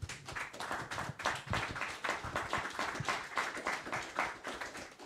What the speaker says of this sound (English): yeah, big round of applause.